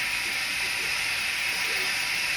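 Turkey bacon cooking in a pan, a continuous, even sizzling hiss at moderate loudness, alone without speech.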